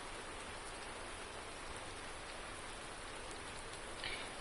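Steady rain falls at a race track, a dense, even hiss of drops on the surface that holds constant throughout, with a brief slight swell near the end and no voices.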